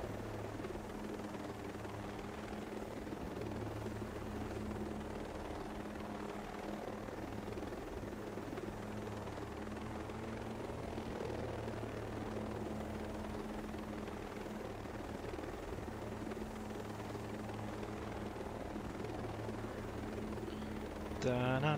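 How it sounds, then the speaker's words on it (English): A large helicopter in the Ghost Recon Breakpoint video game gives a steady, droning rotor and engine hum that holds constant throughout, with no voices over it. "I wonder if they get bigger helicopters than this. This is a big beast."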